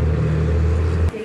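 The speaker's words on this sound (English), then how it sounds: "This is the BMW. This is an M." Engine rumble from a BMW M car, a steady low idle drone close by that holds evenly before cutting off abruptly near the end.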